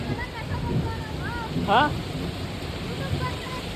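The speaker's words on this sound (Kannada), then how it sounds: "ಆದರೂ ಮಳೆ ನೆನೀತಾ ಇದ್ದೀವಿ" Heavy rain falls at Tirumala, a steady broadband hiss with wind buffeting the microphone, and a brief distant voice or call rises in the middle.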